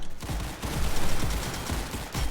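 Rapid gunfire from a Roblox counter-strike style shooter, loud close repeated shots in quick bursts with no talking.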